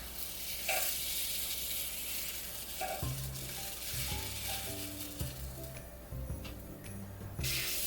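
Æbleskiver batter sizzles steadily in a Danish pancake-ball pan as the balls are turned, with a broad continuous hiss and a few soft scraping taps from the flipping utensil.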